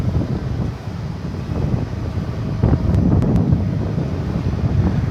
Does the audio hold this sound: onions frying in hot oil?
no